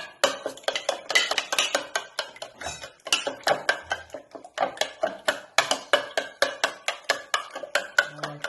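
Eggs for a vegetable cheese omelette beaten in a bowl with a spoon or fork, a fast rhythmic run of clinking, tapping strokes, close and alone.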